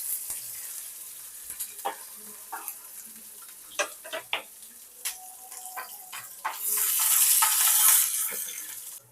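Ginger, onion and curry leaves frying together in a pan for upma. Quiet clinks and stirring taps give way to a loud, steady sizzling hiss.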